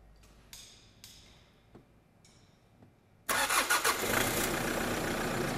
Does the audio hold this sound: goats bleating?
no